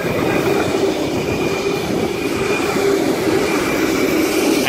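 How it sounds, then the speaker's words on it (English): Empty Sydney S set electric passenger train rumbling past on the up main line at Turrella at a steady pace, with continuous wheel and rail noise throughout. "We should have an empty train movement about to pass the up main"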